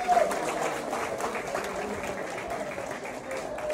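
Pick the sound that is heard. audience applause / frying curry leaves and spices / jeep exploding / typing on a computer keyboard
audience applause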